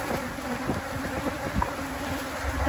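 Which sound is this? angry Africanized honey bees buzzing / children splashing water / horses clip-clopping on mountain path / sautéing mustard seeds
angry Africanized honey bees buzzing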